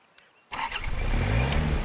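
A car engine in the hunting video game Way of the Hunter starts up abruptly after a quiet moment, then settles into a steady, loud, close rumble.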